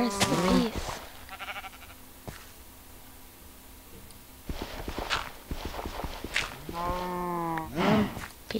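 Minecraft cows moo in several drawn-out calls, with a sheep bleating and blocky footsteps in the game world, and someone talks briefly between the calls.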